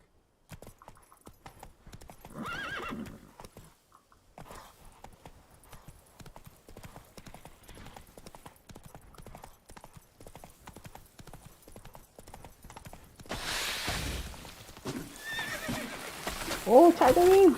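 In The Witcher 3, hooves beat a steady galloping clip-clop while a horse whinnies, with a voice speaking briefly and louder movement and effects rising toward the end.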